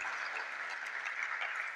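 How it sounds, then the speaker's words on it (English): Audience applause at a university faculty of arts and social sciences international conference: a dense, steady wash of clapping from a crowd, even and sustained throughout, with no voices on top. "Please, round of applause."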